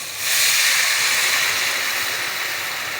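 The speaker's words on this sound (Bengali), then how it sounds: "এবার পানিটা দিয়ে দিব।" A hot pan hisses loudly as water hits it, a sudden broad steamy sizzle that swells at once and then holds steady, slowly easing, with no talking.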